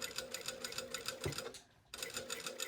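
A sewing machine quietly runs a stay stitch line along a collar facing with a fast, even clatter of needle strokes. It halts briefly, then picks up the same close, soft rhythm again.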